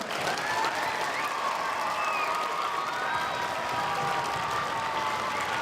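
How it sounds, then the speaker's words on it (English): An outdoor Veterans Day celebration crowd in Quashnet, 2018, gives a steady round of applause for a veteran of the 772nd Military Police Company, fairly soft and distant, a continuous patter lasting the whole stretch. "give him a round of applause"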